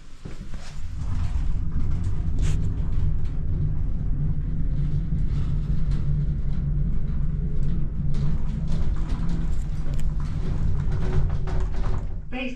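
A Pickerings hydraulic lift in a shop descends, giving a steady loud low rumble and hum that carries evenly throughout with faint mechanical rattles on top.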